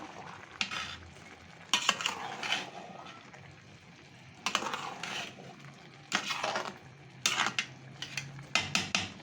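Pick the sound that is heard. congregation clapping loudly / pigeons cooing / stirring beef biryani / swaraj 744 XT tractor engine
stirring beef biryani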